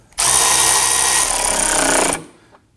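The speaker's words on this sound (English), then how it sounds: "I'm going to come on over here and snug down the bolt." A power tool snugs down a rear control arm bolt on a Nissan Murano in one continuous, loud, close whir lasting about two seconds, then cuts off and spins down.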